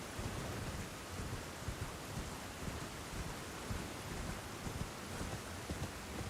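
Rain pours steadily in the fantasy video game Elden Ring, a dense hiss of falling water with low rolling thunder rumbles underneath, continuous and moderately quiet.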